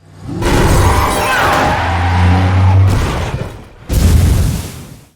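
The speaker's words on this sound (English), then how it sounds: "We have the garbage truck hit a bunch of cars" A garbage truck smashes into a row of cars in a movie chase, a loud burst of crunching metal and shattering glass over a roaring engine, then a short pause and a second heavy impact.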